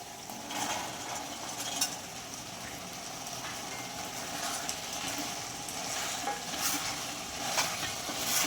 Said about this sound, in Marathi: सोयाबीन पण नीट मिक्स करून घ्यायची त्या मसाल्यामध्ये